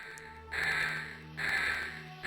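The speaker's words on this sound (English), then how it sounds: "I was hearing a bird cry that entire cutscene" Two distinct crow caws ring out in the Resident Evil Degeneration video game, each a harsh, drawn-out call at moderate distance over a steady low ambient hum.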